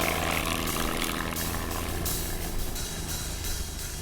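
A propeller airplane drones steadily with a broad, loud engine roar and buzzing overtones, holding constant at close range for a few seconds with no speech.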